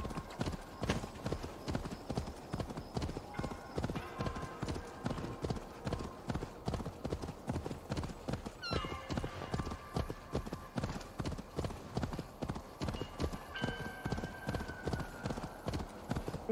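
Horse hooves clip-clop in a steady, rapid trot throughout the game Assassin's Creed Valhalla, with a brief whinny partway through and faint background talk.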